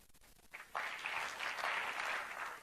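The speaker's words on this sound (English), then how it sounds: "I like that applause" Audience applause at a G20 parliamentary speakers' summit, clapping that swells in after a short pause and holds steady at moderate volume, fairly distant and without talk.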